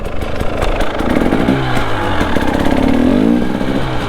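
A motorcycle engine rumbles loudly nearby, its exhaust note rising and falling as the throttle is blipped, with no voices.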